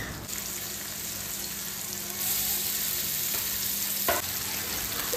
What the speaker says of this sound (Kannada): ಚಿಕನ್ ಬೇಯುವಾಗ ನಾನು ಮಿಡ್ಲಲ್ಲಿ ಆವಾಗವಾಗ ಚೆಕ್ ಮಾಡಿ 2 ಕಡೆ ಮಿಕ್ಸ್ ಮಾಡಿಕೊಂಡು ಚೆನ್ನಾಗಿ ಕುಕ್ ಮಾಡಿ ಇಡ್ತಾ ಇದ್ದೀನಿ